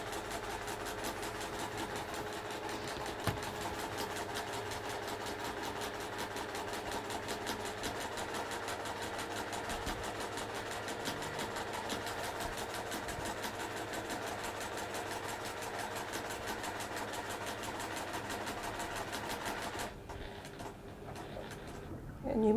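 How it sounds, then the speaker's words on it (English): A sewing machine stitching through layers of fabric for a cushion with a hidden pocket, running as a steady, fast mechanical whir for about twenty seconds before stopping, close and even. "So you're sewing through the 2 layers of your fabric, the fabric that's going to be your secret pocket and the back of your cushion."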